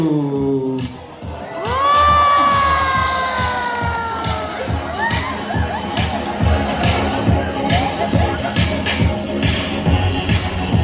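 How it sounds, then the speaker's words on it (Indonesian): Audience at a sea lion show at a zoo cheers, whoops and shouts, with children's voices prominent, in a loud, sustained crowd roar that stays steady throughout. "sekarang boleh dong kasih tepuk tangan yang meriah"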